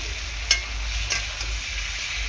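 Oil-fried potato pieces sauté in spice masala for a rohu fish curry, a steady hissing sizzle close by, punctuated by two or three brief scraping strokes of the spatula, with no speech.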